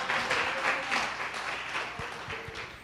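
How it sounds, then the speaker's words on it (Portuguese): A congregation at a church service applauds with brisk, continuous clapping. The sound is fairly loud, with some low sounds mixed in under it. "Aplauda ao Senhor com o seu melhor."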